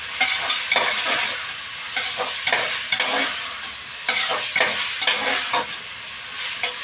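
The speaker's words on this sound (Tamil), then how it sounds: "தக்காளி வெங்காயம் காய்கறி எல்லாம் சேர்த்து நம்ம நல்லா வதக்கிக்கலாம்" Tomato, onion and vegetables stirred and sautéed in a hot pan, with steady sizzling broken by repeated scraping strokes of a spoon, close and fairly loud, no talking.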